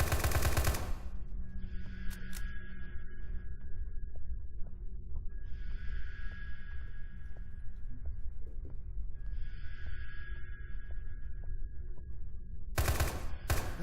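Gunfire in the video game Spaceman Labs Tactical Raid: a loud broadband burst at the start and another near the end. Between them, a steady hum runs under three softer bursts of mechanical texture.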